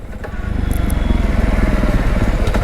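A 2025 Jawa Bobber motorcycle rumbles loudly and steadily up close while riding, its engine note pulsing through a downshift with a rhythmic, throbbing exhaust.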